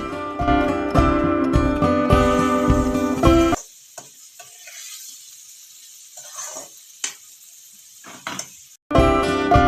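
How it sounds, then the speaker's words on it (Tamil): Bitter gourd pieces sautéing in an oiled pan for a gravy: loud, busy sizzle and stirring scrapes for about three and a half seconds, a quiet stretch with faint scattered clicks, then sizzling returns at the end. "பாவக்காடே சேர்த்து நல்லா வதக்குங்க"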